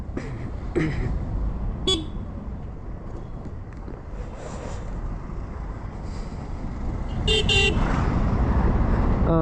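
A TVS iQube electric scooter horn gives a few short beeps, one early and a double toot later, over steady road and wind noise while moving.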